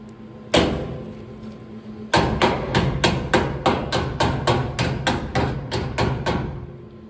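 Metal is struck once with Vise-Grip locking pliers used as a hammer, then after a pause a steady run of about fifteen sharp, ringing blows lands at an even rhythm, shaping 1958 Plymouth rocker panels.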